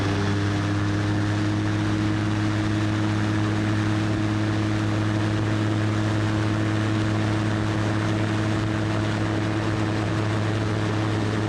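A Super Petrel amphibious aircraft's engine drones at full power for a takeoff on water, a loud, steady propeller hum with strong low tones that stays constant from start to finish.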